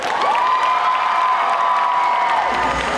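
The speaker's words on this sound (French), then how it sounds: "merci d'accueillir sous un tonnerre d'applaudissements pour la dernière prestation de la journée" At a cosplay show in Bordeaux, a loud crowd applauds and cheers for a performer, a dense roar of clapping and shouts with a sustained tone held over it.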